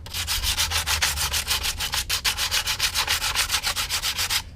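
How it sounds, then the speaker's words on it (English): Sandpaper is rubbed by hand over spackle on a Guillow P-47 model airplane, making a quick, even rhythm of close scratchy strokes, about six per second, with no voices. "I just want to let the sandpaper do the work."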